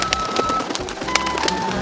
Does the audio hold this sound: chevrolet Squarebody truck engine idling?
no